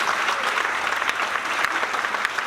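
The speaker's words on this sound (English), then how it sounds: "let's give them a round of applause real quick" A brief burst of audience applause for a charity board leadership team, dense clapping with a few sharper individual claps standing out near the front.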